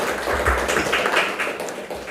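Audience applause in a meditation gathering, a dense patter of many hands clapping steadily and fairly loud for about two seconds, with no voice over it.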